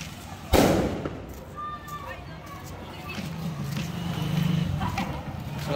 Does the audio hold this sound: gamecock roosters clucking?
no